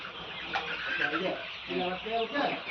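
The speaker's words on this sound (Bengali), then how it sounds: "এখানে 3500 মুরগি আছে।" Sonali chickens clucking on a poultry farm of about 3,500 birds, a steady busy flock chorus of clucks and calls with a voice talking over it.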